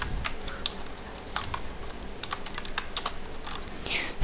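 Typing on a computer keyboard, with rapid, irregular key clicks heard close up and alone for a few seconds, ending in a brief louder burst.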